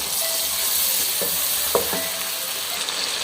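Garlic tadka sizzles steadily in a hot pan, a loud continuous frying hiss broken by a few sharp scrapes and clinks as the spoon stirs it, with no voices.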